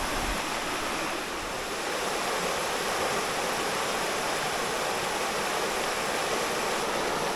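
Water pours down a spectacular waterfall at a clear swimming spot, a steady broadband rush heard from fairly close, constant and unbroken with no voices over it.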